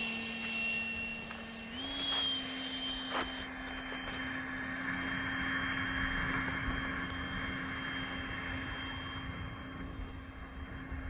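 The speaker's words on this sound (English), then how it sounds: "Bentley's gonna take the Air Sally 70mm Draken up for his first flight" A scratch-built Saab J35 Draken RC model jet with a 70mm electric ducted fan flies with a steady, whining turbine-like drone and a rising tone, held at constant volume in the distance.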